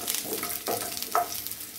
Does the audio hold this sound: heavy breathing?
no